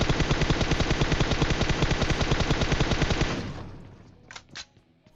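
Automatic gunfire in the battle royale game PUBG Mobile: a loud, continuous rapid-fire burst lasts about three seconds, then cuts off, leaving a couple of fainter shots.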